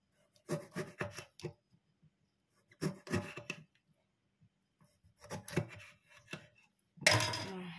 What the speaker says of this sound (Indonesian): sekarang kita potong-potong jeruk nipisnya menjadi beberapa bagian ya